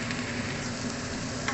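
Pork sizzling in a pan as its fat renders into oil, a steady, close, continuous crackling fry with no talk over it.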